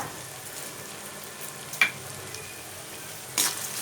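Onions and spices for a fish gravy sautéing in a pan, a low steady sizzle broken by two sharp spatula scrapes, close and without speech.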